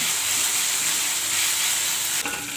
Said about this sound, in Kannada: ಸ್ಮೆಲ್ ಹೋಗೋವರೆಗೂ ಫ್ರೈ ಮಾಡ್ಕೊಳ್ಳಿ